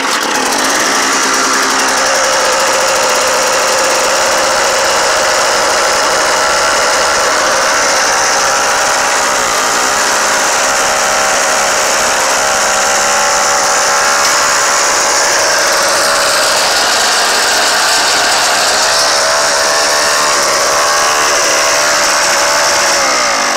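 An antique Bantam snowblower engine catches and runs on, a loud, steady, buzzing drone that holds for the whole stretch without talk.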